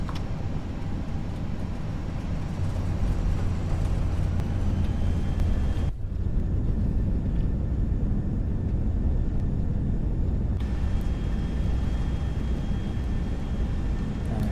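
Steady, loud engine roar from an FSLabs A319 in a flight simulator at idle reverse thrust after landing, a continuous broadband rumble with a brief dip partway through, then a shift in tone as the noise carries on.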